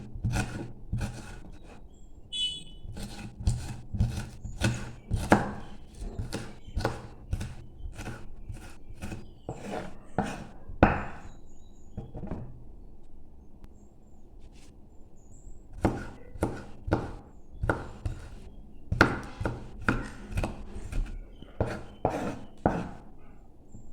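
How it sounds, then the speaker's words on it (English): Onions and garlic are chopped with a knife on a board in a home kitchen, giving a steady series of close, crisp cuts in quick bursts with short pauses between them. "Cut onions, garlic and keep aside."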